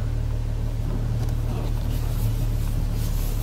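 A car being moved gives a steady, low engine rumble close by, holding an even level for a few seconds without any sharp revs.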